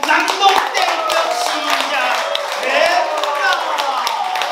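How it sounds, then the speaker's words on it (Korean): People seated in a cafe clap together before a reading of a short story, close and lively handclaps mixed with murmuring voices and chatter throughout. "카페에 앉아있는 모든 사람들의 박수 소리와 함께 낭독 땡볕"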